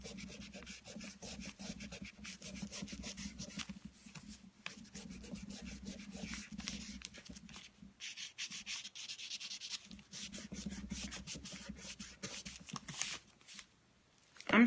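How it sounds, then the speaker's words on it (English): Pastel pencil drawing on paper with rubbing by finger, a continuous close, soft scratchy rubbing and sanding texture in uneven strokes, quiet and alone. "I am just drawing around it and rubbing with my finger."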